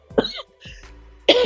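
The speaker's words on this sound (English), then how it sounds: "every time I walk in the cold, it seems like me cough again." A person coughs while walking out in cold night air: three rough, close coughing bursts, the last one loudest, with no talk.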